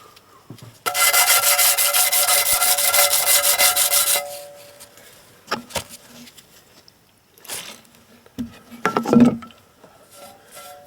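A small block rubs hard against an engine part during cleanup after sump removal on a Ford EcoBoost 1.0. A harsh, loud scraping burst lasts about three seconds, followed by scattered short scrapes and knocks with quiet gaps between them.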